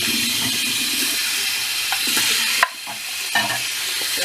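Tin cans being rinsed under running water at a sink, a steady hiss of water with a couple of brief knocks and clatters as the cans are handled.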